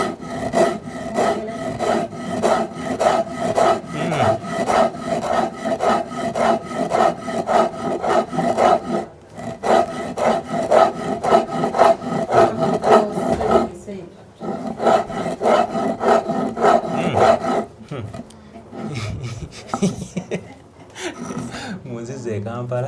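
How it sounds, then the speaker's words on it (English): Traditional Ugandan hand grinding gives a rhythmic, rasping scrape of stone rubbed back and forth, loud and close, with voices chanting or talking over it and brief pauses between strokes. "It's our time to grind."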